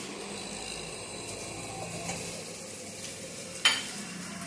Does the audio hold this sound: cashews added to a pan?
yes